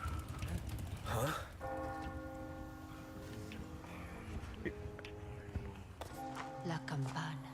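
Church bell in the Resident Evil 4 Remake game tolls with sustained harmonic strikes that ring out and decay, overlapping one another amid game noise and movement sounds.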